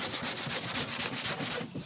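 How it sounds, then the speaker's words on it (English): Hand sanding a 2000 Mustang Cobra R hood with quick back-and-forth strokes, a rhythmic rasping scrape repeating about every fifth of a second, close and loud. "Sanding 101."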